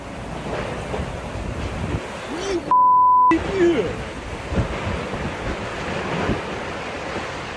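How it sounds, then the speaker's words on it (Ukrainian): Strong, roaring tornado wind gusts rush continuously, with a brief electronic beep tone cutting in partway through before the blustery roar resumes. "шалений вихор руйнівної сили буквально здіймав повітря все навкруги"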